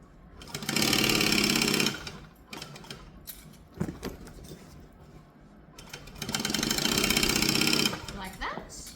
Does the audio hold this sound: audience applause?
no